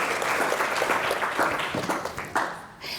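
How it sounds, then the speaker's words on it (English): A group applauds the yellow team at a kids' activity: brisk, dense clapping with sharp individual claps, loud and close, thinning and tapering off near the end. "Let's give our yellow team a round of applause."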